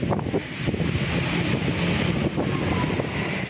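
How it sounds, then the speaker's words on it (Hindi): Storm winds and heavy rain lash Lahore in a steady, roaring wash of gusty wind and hissing downpour, loud and continuous throughout with no voices. "तूफानी हवाओं और मूसलाधार बारिश ने जल थल एक कर दिया"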